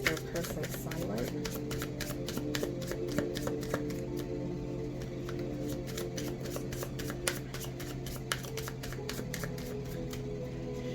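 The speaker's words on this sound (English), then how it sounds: "And as I'm shuffling" A deck of cards is shuffled in a rapid, steady riffle of crisp clicks and flutters that runs throughout, close by, with a person talking quietly underneath.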